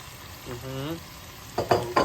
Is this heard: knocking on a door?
no